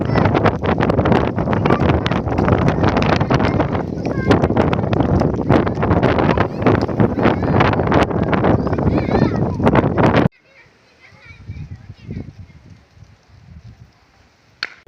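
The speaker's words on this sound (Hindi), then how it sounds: "आवाज़ भी सुन रहे होंगे कि कितनी तेज़ हवा चल चुकी है" Loud, constant wind roaring and buffeting the microphone for about ten seconds in blowing dust, then cutting off to a much quieter scene with faint rustling.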